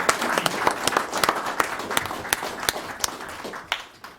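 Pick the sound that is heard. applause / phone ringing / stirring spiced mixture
applause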